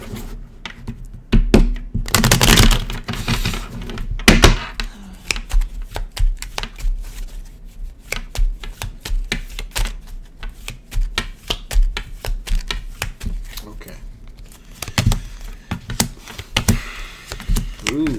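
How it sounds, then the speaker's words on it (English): Tarot cards are shuffled repeatedly up close, a rapid riffling and flicking with soft taps, continuing in bursts throughout. "One more shuffle."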